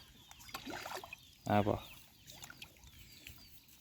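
A chicken gives a short, loud cluck outdoors on a chilly morning among ducks and chickens, with fainter farmyard rustling and distant bird calls around it.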